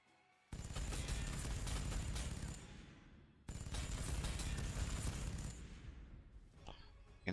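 Gunfire in the strategy video game Warhammer 40000 Sanctus Reach, two loud sustained bursts of rapid shooting, each lasting a few seconds before trailing off, with a short gap between them.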